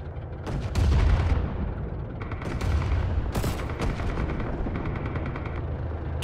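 A Lahti-Saloranta M/26 machine gun fires in a Winter War game mod, with several loud bursts and single shots over about six seconds, mixed with distant battlefield gunfire and booms.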